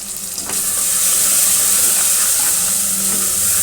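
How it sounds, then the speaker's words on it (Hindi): Spices with cumin, turmeric and coriander powder fry in a pan as water is poured in, giving a loud, steady hiss and sizzle that swells sharply after a brief quieter start. "थोड़ा थोड़ा मैं इसमें पानी डालती जाऊंगी और इसको मैं फ्राई करती जाऊंगी"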